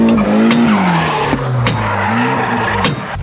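A 2JZ-swapped Nissan 180SX drifting, its engine droning loud and close as the tires skid and squeal continuously through the slide, pitch rising and falling with throttle.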